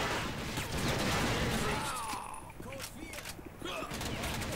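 Rapid gunfire in the TimeShift video game, dense bursts loud at first then thinning into scattered shots among game sounds and someone talking.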